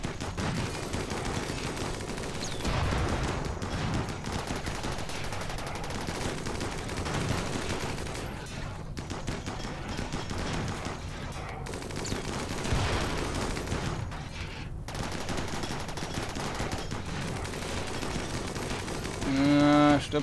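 Sustained gunfire and fusillades in the RimWorld video game, dense and continuous bursts of shots rattling on throughout, with brief lulls and a loud swell at the end.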